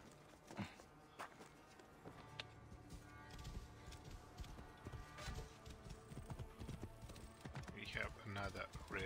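Rhythmic hoof clip-clops from a horse galloping in Assassin's Creed Origins, with scattered clicks and game sound effects layered over a busy background.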